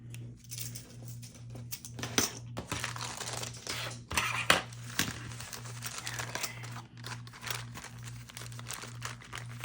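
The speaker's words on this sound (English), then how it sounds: "just gonna punch my holes all together" Repeated crunchy hole punching through paper with rustling, close and busy, with a steady low electrical hum running underneath.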